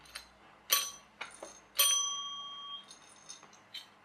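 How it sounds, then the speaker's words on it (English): A metal dome doorbell on a plastic base, struck by a small metal clapper, rings out in two clear strikes with long decaying tones, plus a few softer taps, close and alone with no talking. "The base is plastic, the dome is metal, and you've got a little metal clapper in there that you push down with that."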